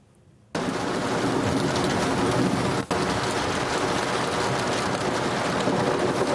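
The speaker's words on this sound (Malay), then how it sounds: "Hujan lebat betul dekat luar." Heavy rain pours outside, a dense loud steady hiss that starts abruptly after a quiet moment and continues unbroken, with one brief dip midway.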